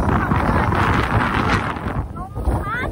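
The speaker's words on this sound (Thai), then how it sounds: "ลมพัด" Snowstorm wind blows steadily and loudly across the microphone as broadband roar, with someone speaking over it and faint creaks near the end.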